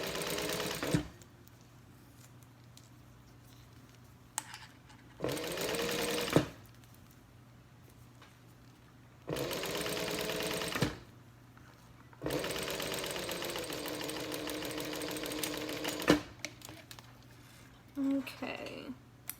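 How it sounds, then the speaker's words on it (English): Sewing machine stitching a vinyl wristlet strap, four sustained runs of steady whirring separated by quiet pauses, close and fairly loud, with faint handling noises between. "I'm just going to go ahead and stitch along this other edge."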